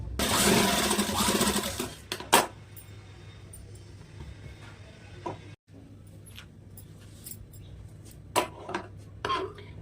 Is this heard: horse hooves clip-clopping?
no